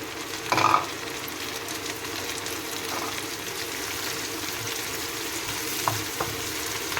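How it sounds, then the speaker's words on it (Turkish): Green and red peppers and onions sauté in a hot pan, giving a steady, soft sizzle throughout with a few brief stirring clatters. "Evet arkadaşlar şöyle biraz soğanını kavurdum. Ve şimdi hemen ardından şöyle biberlerimi koyacağım."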